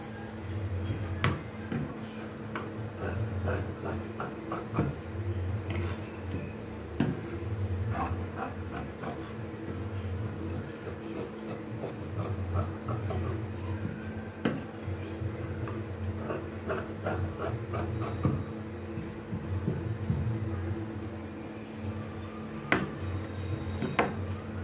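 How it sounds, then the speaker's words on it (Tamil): Scissors cut through blouse fabric for a back piece, giving close, faint rasping snips and rubbing scrapes in an uneven rhythm against a low steady hum, with no talk. "இப்போ பேக் வெட்ட போகிறேன். பேக் வெட்டுவதை கவனிங்க."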